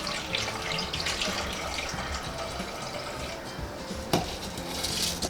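Water pours and splashes steadily for several seconds as it is drained from soaked raw rice, a continuous rushing sound up close with a brief clink partway through.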